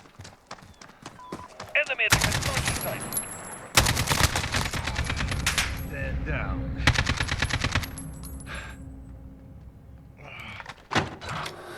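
Bursts of automatic fire from an RPK light machine gun chambered in 7.62x39mm with a 23-inch barrel, in the shooter game Call of Duty Modern Warfare: long loud rattling strings with short gaps, close up, with a few single shots near the end.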